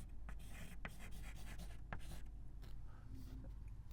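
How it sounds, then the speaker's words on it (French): Pen scratching across paper in a quiet room: continuous soft strokes broken by sharp little taps and ticks, close and steady throughout, with no voices over it. "Donc, petit b, nous allons écrire faux en face."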